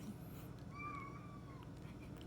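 A single drawn-out meow from an indoor cat, rising and falling over about a second, close and clear against low room hum.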